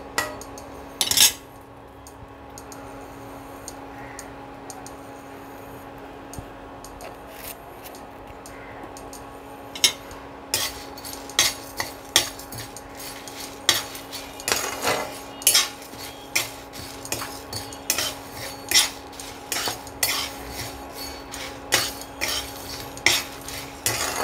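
Whole spices, fenugreek and asafoetida among them, stirred and roasted in a pan for homemade sambar masala, with repeated scraping and clinking strokes of a spoon against the metal, growing busier and louder partway through.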